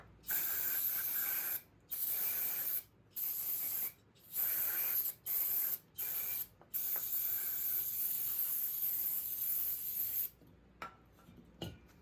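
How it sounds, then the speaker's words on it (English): Brake cleaner sprays from an aerosol can onto the valves of a VW Beetle cylinder head in short, loud hissing bursts separated by brief pauses, followed by one long spray and a few quick final blasts. "I'm just using brake cleaner. Blow it out with air if you have any."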